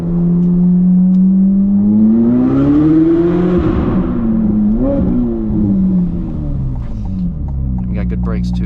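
A Chevrolet Corvette C8 Z06 engine on the move, its deep harmonic drone rising and falling as the throttle swells, with voices talking over the steady running note throughout.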